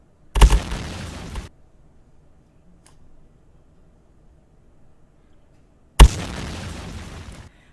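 A grenade goes off twice in a video game still in development: two sharp, loud blasts several seconds apart, each trailing into a rumbling decay of about a second, with near silence between them.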